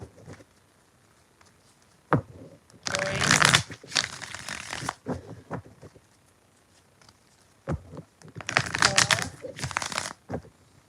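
Tarot cards being shuffled in several rustling, riffling bursts of about a second each, close and fairly loud, separated by pauses with faint background sounds.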